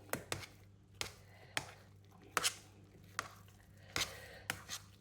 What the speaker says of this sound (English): And then I'm just going to mix it all in.